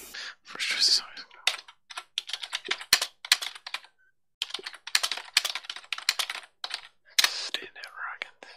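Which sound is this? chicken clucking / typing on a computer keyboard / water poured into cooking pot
typing on a computer keyboard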